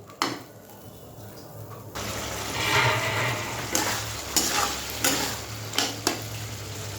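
Fish fries in a pan of hot oil with a steady, close sizzle that swells after a quieter start, broken by a few sharp clinks of a utensil against the pan.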